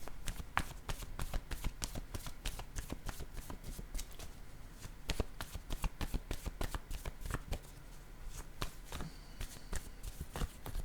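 Playing cards are shuffled and handled during a card game, producing dense, rapid riffling and flicking close by that runs almost nonstop at a steady, fairly quiet level.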